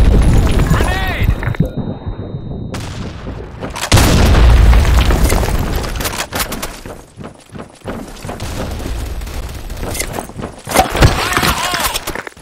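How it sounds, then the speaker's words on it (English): A grenade explodes in a first-person shooter video game, a loud deep boom among heavy gunfire and other battle noise, with a voice shouting over the action. "Grenade!"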